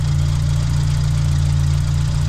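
A Vauxhall Nova 1.6 injection car engine runs at a steady idle, a loud, constant low rumble with an even throb and no pauses.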